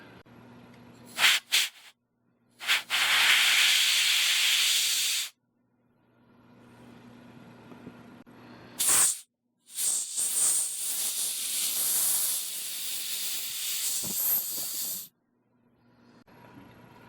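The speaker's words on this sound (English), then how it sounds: "now you are going to blow all the little holes with air" Compressed air blasts hiss loudly into the small holes of a Homelite EZ Automatic chainsaw carburetor, several bursts of varying length separated by quiet pauses, no talking.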